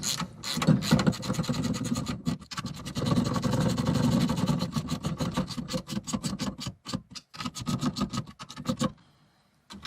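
A ratchet snugs the steering wheel bolts on a square body truck with a long run of fast, steady clicking, close and loud, broken by short pauses and ending in quiet.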